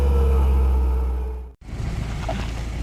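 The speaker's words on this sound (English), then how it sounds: "Do a little more winching and using the motor at the same time." An off-road vehicle's engine drones steadily while a winch pulls it free, the loud low rumble cutting out abruptly for a moment before resuming with rougher, uneven mechanical noise.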